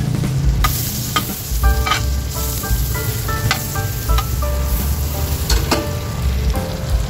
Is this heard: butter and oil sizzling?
yes